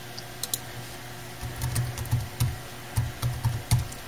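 Keystrokes tapping on a small netbook keyboard with a sometimes unresponsive M key, coming in short uneven bursts of close clicks against a faint steady hum, with no talking.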